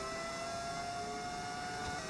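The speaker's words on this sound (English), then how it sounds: "Can hear my engine braking." A Formula 1 car in the F1 25 video game, Lamborghini My Team career, drones steadily with engine braking, a continuous mid-pitched whine and rumble with no speech over it.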